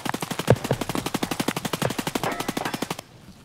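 Rapid automatic gunfire from a first-person shooter video game rattles in a long, evenly spaced burst of about thirty shots over three seconds, loud and close, then stops abruptly.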